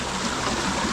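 Water from an off-track jungle waterfall in Bali pours in a steady, dense rush, loud and close, with no pauses and no voices.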